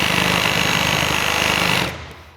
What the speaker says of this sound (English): here's the Super Sawzall. This dude will rock you.